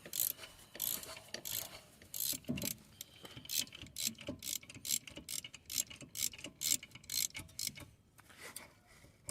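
An electronic parking brake caliper piston is wound back by hand, producing a series of quiet, rhythmic ratcheting clicks in quick bursts that speed up toward the end.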